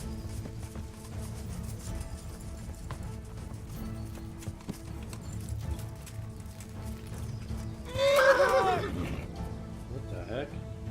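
Hooves clip-clop steadily from a horse in the medieval video game Kingdom Come, under in-game background sound, then a loud neigh rises near the end, followed by a fainter snort.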